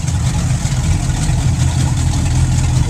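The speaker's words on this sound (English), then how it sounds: "You're seeing the engines are fired up." Boat engines idle at a dock, a loud, steady low rumble that stays even and close throughout with no talk over it.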